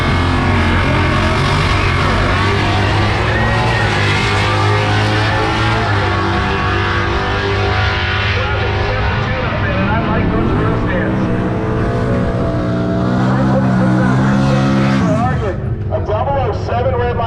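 Drag cars launching side by side at an NMRA Ford drag race in Bradenton, Florida, one of them a manual-transmission car, with loud sustained engine roar and rising then falling revs, a track announcer talking over it throughout.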